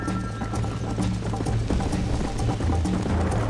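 Horse hooves clip-clop at a steady gallop in the Red Dead Redemption video game, heard up close and continuously over a low rumbling bed, with faint mechanical clicks mixed in.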